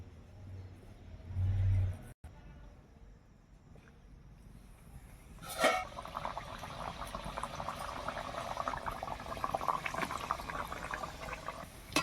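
Green-pea kochuri frying in hot oil gives a steady, close crackling sizzle that starts after a few quiet seconds, with a brief thump just before it and no talking.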